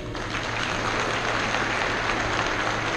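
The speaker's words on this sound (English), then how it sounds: "Give them a round of applause." Audience at a Masonic Lodge of Sorrow ceremony clapping: dense, steady applause from a crowd, sustained throughout without pause.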